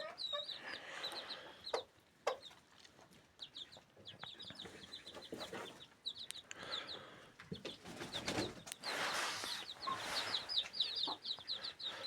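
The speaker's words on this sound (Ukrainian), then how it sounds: "от курочка просто несеться" Laying hens cluck repeatedly in short bursts with a few sharper calls, fairly close, over a busy rustling background and no talking.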